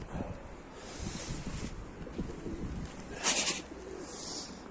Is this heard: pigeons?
yes